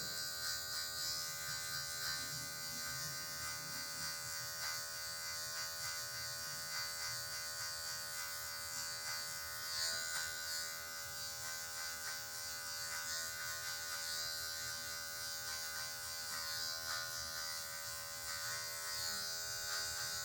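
Steady close electric buzz of a hair clipper with a zero guard trimming hair during a mid fade haircut, continuous and even throughout with no pauses.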